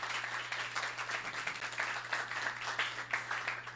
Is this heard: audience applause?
yes